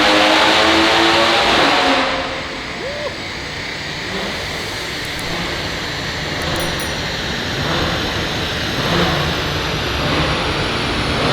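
A BMW M140i engine holds a loud, sustained drone on a dyno, its note rising and swelling steadily throughout with broadband roar and no speech.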